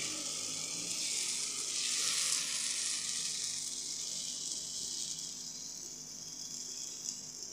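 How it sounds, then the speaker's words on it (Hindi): Vegetable paratha batter hisses steadily in oil on a hot tawa, a continuous moderate sizzle that swells briefly early on and then settles, with no voices. "तवा मैंने गरम कर लिया है, तवे पे मैंने थोड़ा सा ऑयल डाल दिया था। अब ये मैं बैटर डाल रही हूँ।"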